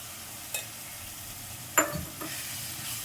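Spoon scraping and a few clinks as potatoes are stirred into frying masala in a pan over a faint, steady sizzle, with two sharper knocks standing out.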